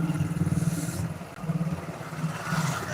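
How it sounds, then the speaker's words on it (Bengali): A motorcycle passes on a fog-covered road on a winter morning, its faint engine putter pulsing rhythmically and fading away. "এই যে একটা বাইক গেল দেখতে পাইনি"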